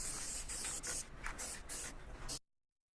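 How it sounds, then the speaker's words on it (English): White paint sprays from a can onto a Harbor Freight motorcycle dolly in close, hissing bursts of about half a second each, roughly seven in a row with brief gaps, then silence. "I'm gonna give this a coat of white paint."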